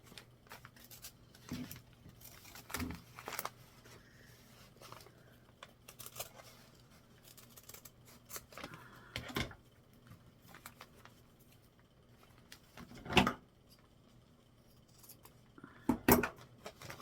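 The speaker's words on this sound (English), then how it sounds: "you're going to trim it away on the second line, and you're going to need some nice paper scissors to do that" Paper scissors trimming the paper foundation of a log cabin paper-pieced quilt block, a handful of sharp, close snips spaced several seconds apart over a quiet room.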